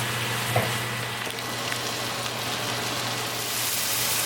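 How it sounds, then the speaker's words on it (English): Steady, even sizzling of meat frying in a hot pan, a constant crackling hiss with a low hum underneath and no voices. "put this meat, hear that sizzle"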